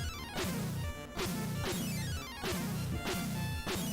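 Ducks falling from the sky in the 1987 NES game Dr. Jekyll and Mr. Hyde, a loud chiptune effect of descending electronic tones over a buzzing bass line, repeating roughly every half second throughout.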